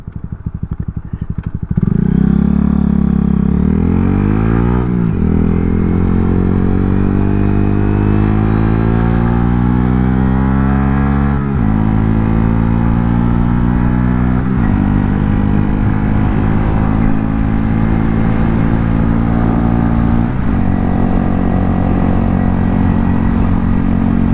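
A 2025 Honda Grom with a loud, throaty Zoom Loop full exhaust rides steadily, engine note rising through the gears with repeated upshifts, close and continuous.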